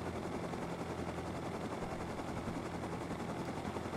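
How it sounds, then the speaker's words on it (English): A low-fuel helicopter flies in the video game Rust, a steady, dense rotor and engine drone at moderate loudness with no talking. "see the low fuel helicopter here now"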